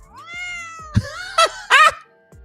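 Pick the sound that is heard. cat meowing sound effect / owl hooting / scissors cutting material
cat meowing sound effect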